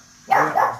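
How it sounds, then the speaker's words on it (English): A single loud, close dog bark, a quick double-pulsed woof after a moment of quiet. "That's my dog."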